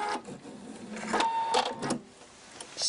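A sewing machine stitches the end of a seam on a knitted cushion, running in short mechanical bursts with brief pauses between them, close and fairly loud.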